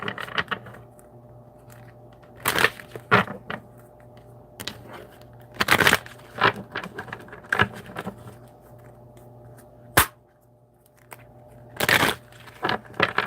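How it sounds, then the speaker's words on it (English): Tarot cards being shuffled by hand in a quiet room, heard as short, crisp bursts of riffling and slapping spaced unevenly apart, with softer handling sounds in between. "I just want to shuffle these too."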